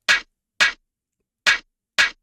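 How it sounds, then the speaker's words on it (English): A drum and bass snare layer hits four times in an uneven pattern, each a short, bright, noisy crack with a quick decay and silence between, heard alone and close. "Then I have another snare layer which sounds like this."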